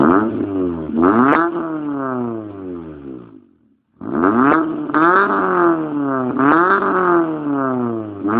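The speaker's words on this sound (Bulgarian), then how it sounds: "Дай малко газ да чуя" A car engine revs repeatedly, rising and falling in pitch in close, loud sweeps, with a short drop to near idle midway before the revving resumes.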